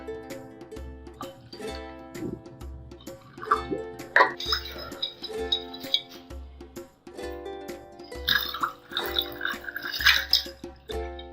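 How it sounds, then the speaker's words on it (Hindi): Falsa squash poured into a glass already holding ice, heard as two stretches of splashing liquid and faint ice clinks over steady background music. "पहले गिलास में मैंने नीचे बर्फ डाल ली है। फालसा स्क्वाश डालेंगे।"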